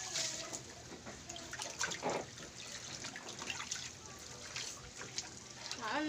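A shower at an outdoor bathing spot runs as a soft, faint trickle and splash of water, heard beneath people chatting nearby.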